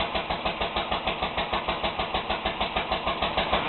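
A vintage International Harvester McCormick Deering LB stationary engine, 1.5 to 2 horsepower and throttle governed rather than hit-and-miss, runs steadily up close with an even, rapid chugging beat and no talk.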